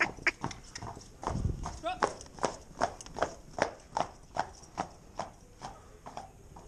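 Steady hoofbeats of a young Shire colt walking at an even rhythm on a hard surface, close by, with a person's voice occasionally over them.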